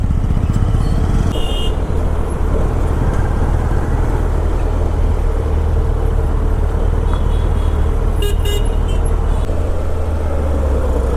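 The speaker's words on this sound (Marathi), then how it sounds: "बेकार बेकार गाईज बेकार ट्रॅफिक" Heavy, jammed road traffic rumbles continuously close by, with car and motorcycle engines and a couple of short horn toots standing out from the steady din.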